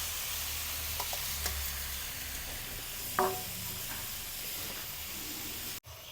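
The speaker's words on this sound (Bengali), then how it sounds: "ভাজা রাখা আলুটাও দিয়ে দিলাম।" Fried potatoes go into a pan of sizzling cabbage and tomatoes for a Bengali vegetarian dish, with a steady close frying hiss, a few soft scrapes of stirring and one brief louder clatter midway.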